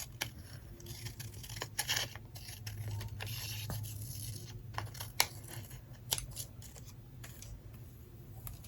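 Faint scissors snip and scrape through magazine paper for a junk journal, a quiet run of small cuts and rustles over a low background hum.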